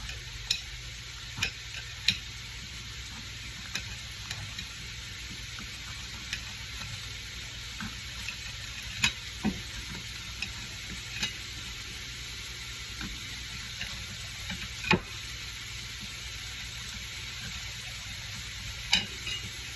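Steady, hissing sizzle of food frying in a pan, with occasional sharp ticks and pops, continuing without voices.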